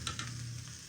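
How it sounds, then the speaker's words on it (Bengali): Potatoes fry in hot oil seasoned with salt and turmeric, a soft sizzle under a low steady hum with a few brief stirring scrapes, close and quiet. "এখানে আলু ভাজা হচ্ছে"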